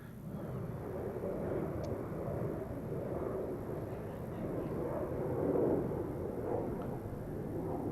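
Low, rumbling roar of an airplane flying overhead on approach to land at Memphis International Airport, a continuous broad drone that swells slightly midway, heard at a distance at a disc golf course.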